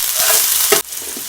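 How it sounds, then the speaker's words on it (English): Hibachi ingredients sautéing in a hot pan give a loud, close, continuous sizzle that cuts off sharply partway through, leaving a quieter frying hiss afterward with no talking. "Just gonna allow it to saute for a couple seconds."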